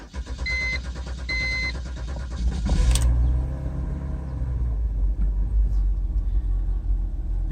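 A 2010 BMW X3 with a faulty transmission valve body cranks and starts. Warning chimes sound first, then the engine catches and settles into a loud, close, steady idle rumble.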